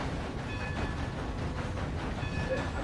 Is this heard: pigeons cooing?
no